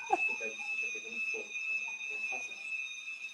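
An alarm sounds outside as a steady high electronic tone running through the whole moment, faint and distant beneath a voice speaking in Portuguese.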